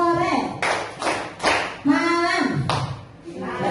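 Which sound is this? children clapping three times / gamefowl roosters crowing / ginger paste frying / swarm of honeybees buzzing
children clapping three times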